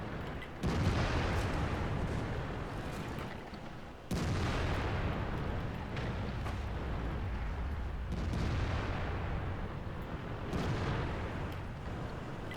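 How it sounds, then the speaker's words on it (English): Tank cannon firing armor-piercing rounds in World of Tanks, a loud continuous battle roar with several heavy booming shots spaced a few seconds apart, no talk over it. "I'm gonna switch armor piercing rounds."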